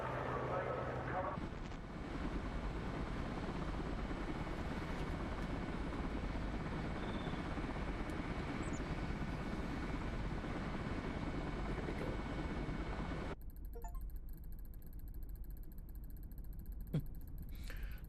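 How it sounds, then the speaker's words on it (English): A rescue helicopter in a video game gives a steady, dense rotor and engine drone that runs almost unbroken, then abruptly thins to a quieter, hollow background near the end. "I gotta find a rescue helicopter."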